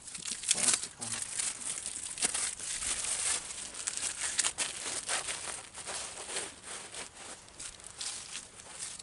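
Plastic wrapping around a new hydraulic filter for a Bobcat crinkles and rustles almost continuously, close and moderately loud, with irregular crackly bursts throughout.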